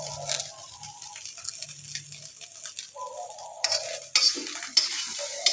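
Tiwul rice stir-fried in a pan, a steady sizzle under repeated scraping and stirring strokes of a utensil, close and moderately loud, with no talking.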